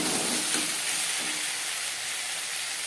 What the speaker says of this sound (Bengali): এবারে খুন্তির সাহায্যে একটু ম্যাশ করে দেব